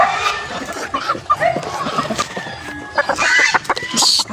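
Backyard chickens cluck and squawk close by in a busy, overlapping chorus, with sharp higher calls breaking through now and then.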